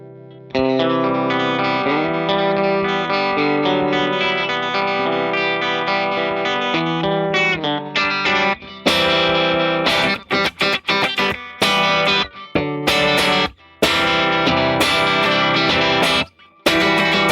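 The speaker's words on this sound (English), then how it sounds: "Shimmering reverbs. Gotta love your shimmering reverb." Custom-built shimmering reverb effect on a sustained synth-like tone, a thick chorused wash that holds steadily, then breaks into choppy stuttering bursts with sudden gaps and bright distorted swells.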